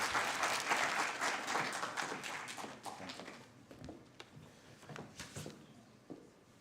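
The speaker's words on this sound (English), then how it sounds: "Let's give him a warm round of applause as he makes his way on stage." An audience at an International Migrants Day event claps warmly as a guest walks onto the stage, the applause loud at first and thinning into scattered claps.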